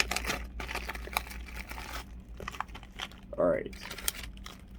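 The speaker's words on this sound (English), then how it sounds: "it's got the typical plastic wrap on it, so we're gonna unwrap it" Plastic wrap being peeled and torn off an Ancestry DNA kit box, close crinkling and rustling in short bursts, with a brief spoken remark near the middle.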